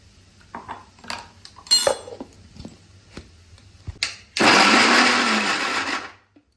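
Scattered clinks of utensils and dishes come first, then a kitchen blender roars loudly for about two seconds, grinding a chutney with salt and mustard oil for veg momos, before it stops abruptly.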